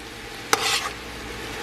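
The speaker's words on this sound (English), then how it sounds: "So I'm just going to give this a stir" Meat being stirred in a pot over a medium flame for a cheese tortellini soup gives one short scraping clink of a utensil against the pot, followed by a brief sizzle over a low background hiss.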